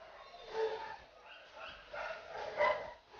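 A German Shepherd dog makes several soft barks, yips and whimpers in an uneven rhythm, moderately close and fairly quiet.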